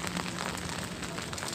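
Rain falls steadily on flowers and garden plants, a soft, continuous patter heard faintly on its own.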